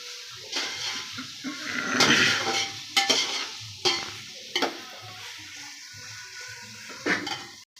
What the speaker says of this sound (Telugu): అరిసే కలిపేస్తున్నాను